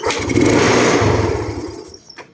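A hard-starting motorcycle with weak compression, suspected stuck valves, is kicked over; a rough, loud engine churn runs close for about two seconds, then cuts out, leaving a brief clunk.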